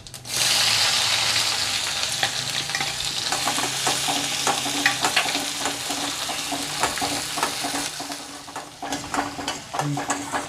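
Onions sizzle in hot oil with mustard seeds, cumin and two Kashmiri chilies for a Karnataka-style khara bath, a close, continuous frying hiss broken by scraping stirs from start to finish.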